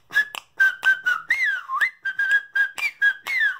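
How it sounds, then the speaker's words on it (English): A person whistles a short, lively melody in clear, close bursts of notes with brief gaps and a few sliding pitches, playing along in a percussion jam. "or whistle"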